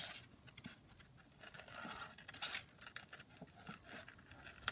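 Scissors snip through book images, producing faint, close crisp cuts and papery rustles in a loose, irregular rhythm.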